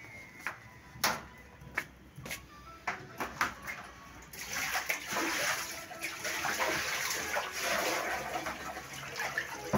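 Water splashes while a washroom floor is washed, first as scattered splatters and drips, then as a steady louder pour and wash that continues to the end.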